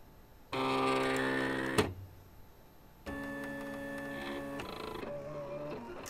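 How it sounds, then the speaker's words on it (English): A vinyl cutting machine cuts reflective heat transfer vinyl with a steady motorized whir and humming tones. A pause with a click comes in the middle, then the whir resumes. "And my machine is cutting."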